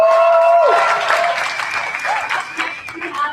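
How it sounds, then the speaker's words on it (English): Hackathon audience claps and cheers together in a dense, steady burst of applause filling the room, with a voice briefly heard over it at the start. "give these guys another round of applause."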